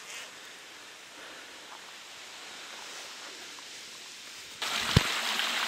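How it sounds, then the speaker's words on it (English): Steady broadband water rush of a babbling brook on the Scottish hill Meall Fuarmhonaidh, continuous and fairly close, growing louder near the end with a brief knock. "This is what you call a babbling brook. I can hear it babbling."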